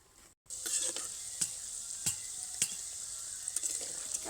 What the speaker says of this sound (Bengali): আর এটা হালকা আঁচে ভাজতে হবে